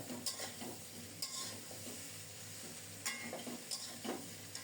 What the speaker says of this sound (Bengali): মশলার সাথে মাছের মাথা আলু ভাজা আবারও কিছুক্ষণ নেড়ে ছেড়ে কষিয়ে নিচ্ছি